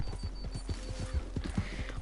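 Horse hooves clip-clop steadily in Red Dead Redemption 2, a quick, even run of close hoof strikes over a constant low background hum.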